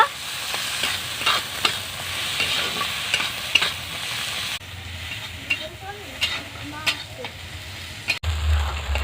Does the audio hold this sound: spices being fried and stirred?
yes